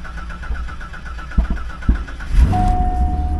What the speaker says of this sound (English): fire up this ultra-low mileage LS1